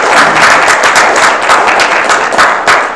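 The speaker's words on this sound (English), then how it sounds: "Give those guys a round of applause." An audience at a live-streamed talk claps loudly and rapidly together, a close, dense round of applause with sharp individual claps standing out in the mix.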